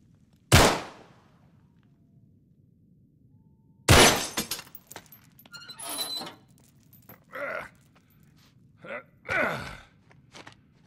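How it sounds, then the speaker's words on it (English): Window glass shatters from a gunshot in Uncharted 3, a sharp single crack and crash followed by a sudden burst of breaking glass, then scattered tinkling debris and short voice sounds spread over several seconds. "we basically just shot a window for no reason"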